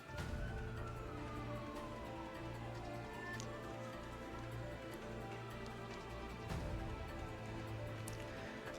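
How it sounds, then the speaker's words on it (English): Emergency sirens wail outside in the distance, a faint rising and falling tone heard through a room over a steady background hum, with no voices. "I hear sirens more than I hear birds"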